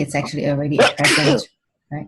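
A single sharp sneeze bursts out in the middle of a woman's business meeting, sitting between stretches of close conversational speech followed by a brief pause.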